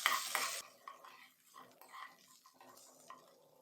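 Chana dal, garlic and ginger frying in a pan for Tamil Nadu style mint chutney, with quiet scraping stirs, light clinks of a spoon against the pan and a faint sizzle, loudest at the start and then softer.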